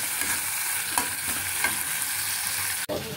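A spice paste for raw banana kofta is stirred in a hot pan. A close, even sizzle carries a few soft scrapes and ends with one sharp knock of the spoon on the pan.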